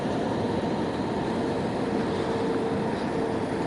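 Steady, loud cabin roar inside an Air Seoul airliner on landing approach, a constant broadband engine and airflow rumble with no clear breaks.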